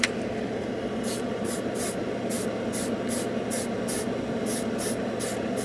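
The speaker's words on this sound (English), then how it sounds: "I forget when I clean up my airbrush, I turn the air way up" An airbrush spraying Vallejo Metal Color paint gives off a string of short, sharp hissing bursts at an irregular pace over a low steady background hum, with no one talking.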